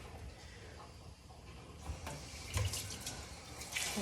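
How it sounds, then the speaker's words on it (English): Tap water running into a cooking pot at a kitchen sink while canning pinto beans, a steady soft stream with small splashes and clunks as the pot shifts. "We'll fill our pot with water here"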